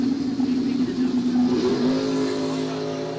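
A third-generation Firebird and a first-generation Camaro launch side by side in a bracket drag race, their engines rising into a loud sustained roar with a climbing pitch, while a voice talks over them.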